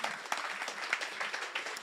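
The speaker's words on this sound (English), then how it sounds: "Another round of applause, please, for Kazunori Yamauchi and for Klaus Zelmer." Short burst of steady audience applause at a car world-premiere broadcast, dense clapping filling the space, alone without speech.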